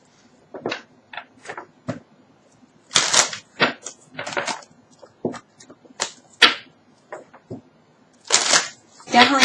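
Oracle cards shuffled and drawn by hand, a run of sharp riffling bursts and soft snaps spread unevenly across the span, close and fairly loud, with a few quieter ticks of handling in between.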